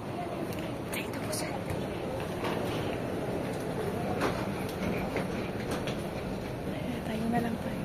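An airport train at Incheon Airport, Korea, rolling along its rails with a steady rumbling hum, faint clicks and squeals rising above the continuous noise.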